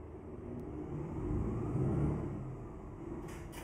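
Truck engine in Euro Truck Simulator 2 on the EAA map, a low steady rumble that swells and eases as the vehicle begins moving, with a few faint higher clicks near the end.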